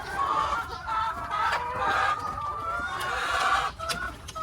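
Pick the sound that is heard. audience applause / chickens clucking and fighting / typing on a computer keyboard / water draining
chickens clucking and fighting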